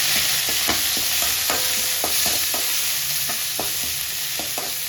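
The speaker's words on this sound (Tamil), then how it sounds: "எல்லாம் ஒன்றா போட்டு எண்ணெயில் வதக்கணும்." Coriander, mint and curry leaves sauté in hot oil with a loud, constant sizzle, while a spoon scrapes and taps the pan in quick repeated strokes throughout.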